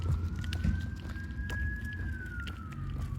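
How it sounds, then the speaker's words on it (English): A distant siren wails in a slow rising and falling tone over steady outdoor street noise, faint but continuous throughout. "Hear the siren off in the distance?"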